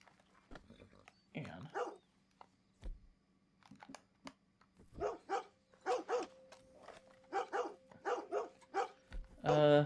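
A dog barking in Red Dead Redemption II, a series of sharp barks in quick bursts that grow louder and more frantic toward the end, over a faint steady hum.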